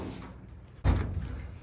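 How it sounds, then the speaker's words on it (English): A car door set down onto a door stand in a shop, one solid thud after a short quiet stretch, followed by a lingering low rumble. "Put your door on there."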